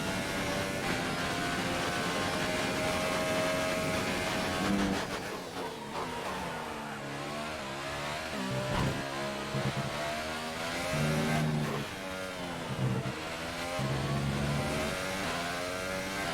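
Formula One race car engine in an F1 racing video game during a qualifying lap at Abu Dhabi, a continuous high-pitched roar that rises and drops with gear changes and braking, with no talking.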